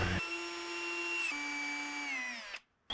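Power drill with an attachment runs at a steady whine, its pitch stepping down midway and sagging near the end before it stops abruptly, used for drilling holes during a van conversion build.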